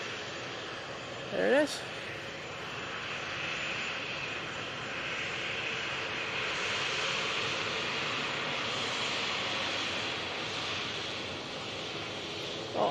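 A Finnair airliner passes at an airport, a steady broad jet roar that swells gently and holds, with a brief voice speaking near the start.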